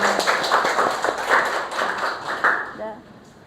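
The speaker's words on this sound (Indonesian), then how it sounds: "Beri tepuk tangan buat Intan." An audience in a classroom claps after a student presentation at a teacher-training session. The claps are scattered and uneven, and talking runs over them before they fade out near the end.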